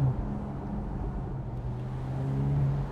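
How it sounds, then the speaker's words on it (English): Mercedes-AMG SL43 roadster driving with the roof down, a steady low exhaust rumble and drone under wind and road noise, continuous and moderately loud throughout, with no distinct pops standing out. "you do hear a little bit more of that exhaust, if it's just like the rumbles and the kind of the little pops"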